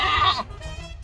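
A goat gives one loud, close bleat at the start, then falls quiet, during hoof trimming.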